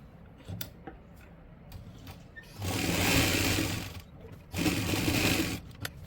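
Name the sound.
sewing machine joining salwar panels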